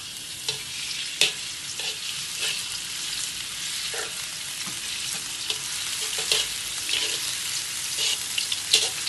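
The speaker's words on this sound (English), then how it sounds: "Let's fry our shallot first. Shallots together with the garlic." Shallots and garlic frying in oil crackle and sizzle steadily at close range, with repeated sharp scraping taps as they are stirred.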